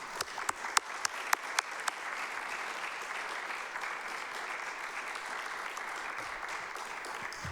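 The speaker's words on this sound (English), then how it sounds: "I want to give him a round of applause" People at a city council meeting applaud for several seconds: a few crisp, separate claps at first, then a steady, even wash of clapping from the room.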